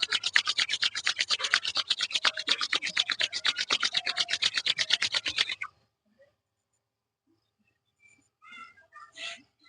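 Palms rubbing together briskly during a pranayama breathing exercise, a fast rhythmic series of close scratchy strokes for several seconds, then silence and a few soft breathy sounds.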